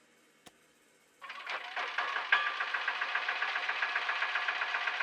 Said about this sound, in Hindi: शेयर ऑटो की आवाज है ये